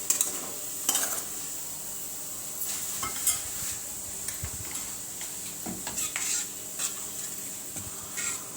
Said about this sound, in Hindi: कोकोनट को हमने क्रश कर लिया हुआ है। अच्छे से मिक्स कर लेना है।